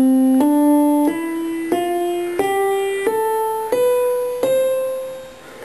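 A major scale climbs note by note on a sustained, tonal instrument, eight evenly spaced steps rising one after another, clear and alone with no talking.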